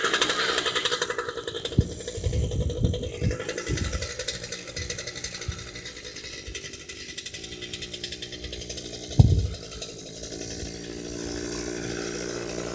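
Yamaha PW50 and PW80 dirt bike engines revving in a field, high buzzing two-stroke whines that rise and fall in bursts, with one sharp close rev spike near the end.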